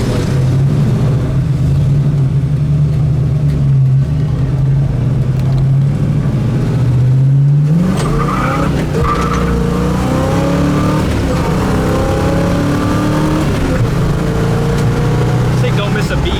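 A 1969 Camaro SS V8 engine drones steadily while driving, then revs up with a rising note around the midpoint and pulls on with shifting pitch, loud and close, with people talking over it.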